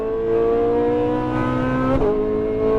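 A supercar engine on an Exotics Racing track run holds full throttle, a loud sustained rising whine with strong harmonics and a brief dip near the two-second mark, as on a quick shift, then climbs again.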